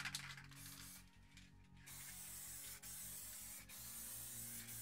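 White crackle effect spray paint hissing from an aerosol can in steady bursts, with a short pause and brief breaks, close and loud with no talking.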